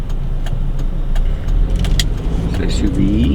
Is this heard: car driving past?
yes